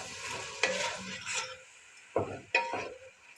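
Vegetables with black pepper and chicken powder being stirred in a pan for fried rice, a few scraping, clattering strokes with soft sizzling between them, close and fairly quiet.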